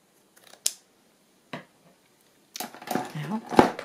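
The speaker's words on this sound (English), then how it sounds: "Oh, I'll put them back in the pot." Metal scissors dropped into a pot while decorating a paper bag journal, heard as a few brief sharp clinks spread out over a quiet moment, followed by a louder clattering rattle as they settle.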